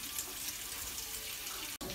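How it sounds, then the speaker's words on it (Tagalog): Tap water runs into a cooking pot for boiling, a steady loud rushing splash throughout with one brief break near the end. "maglalagay tayo ng tubig para pakukuluan natin"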